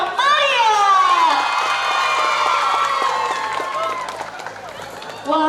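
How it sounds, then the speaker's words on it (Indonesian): A crowd of students at a high school Bujang Gadis pageant in Palembang screams and cheers loudly, with some clapping underneath; the shouting swells, slowly fades, then bursts up again at the end. "Coba dong sekali lagi, beri tepuk tangan yang meriah."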